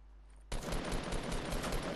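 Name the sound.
gunfire in a video game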